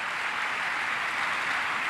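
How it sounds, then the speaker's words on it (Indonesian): Applause for a police academy governor at an Akpol event, a steady, dense wash of clapping holding evenly for a couple of seconds with little else audible. "Tepuk tangan untuk beliau."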